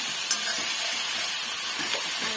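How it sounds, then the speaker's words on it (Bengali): Meat with spices, garlic and onion frying in a pan gives a steady, close hiss and sizzle, with a few soft stirring scrapes. "রসুন পেঁয়াজ আর পুরো মশলাটাকে কষে নেব।"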